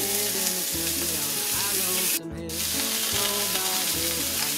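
Spaghetti squash fries in a pan over medium heat, giving a loud, continuous sizzle with a brief sharp burst of spitting midway through.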